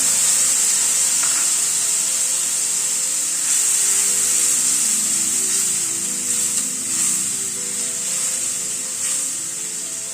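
Steady loud sizzle of tomato paste hitting ginger and green chilli frying in a hot pan, with occasional soft stirring scrapes, close and continuous.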